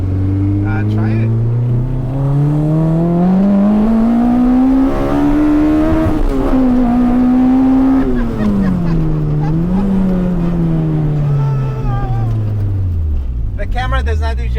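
A 312 hp K24-swapped Acura Integra with individual throttle bodies revs hard while driving, its engine note climbing and dipping through gear changes, loud and close from inside the car, with people talking over it.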